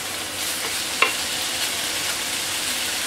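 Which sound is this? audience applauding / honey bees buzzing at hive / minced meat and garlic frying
minced meat and garlic frying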